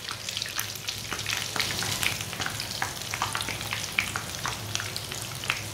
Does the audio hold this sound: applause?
no